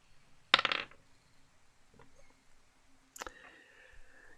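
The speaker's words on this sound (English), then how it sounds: "Yes, I heard a dice roll." Dice in a tabletop D&D game clatter onto a hard surface in two short, sharp rattles about three seconds apart, close and fairly loud against a quiet room.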